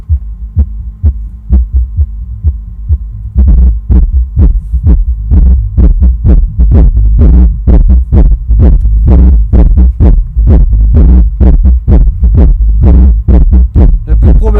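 Music thumps from a repaired Rockford Fosgate T1500-1BD car amplifier, heavy bass pulses in a steady rhythm, loud and close, getting louder after a quieter start.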